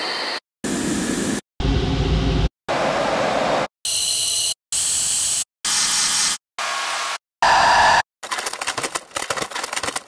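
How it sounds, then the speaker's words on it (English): Noise samples from the Serum synthesizer's noise oscillator played back one after another: about ten short bursts of hissy, differently coloured white and pink noise separated by brief silences, with a final crackling, textured noise burst. "traditionally you might have white noise here or sounds similar to white noise"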